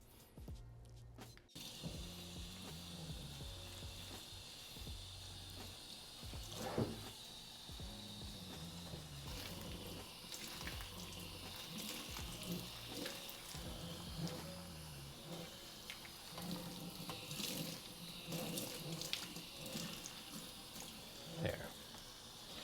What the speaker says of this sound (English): And then we're gonna go ahead and water.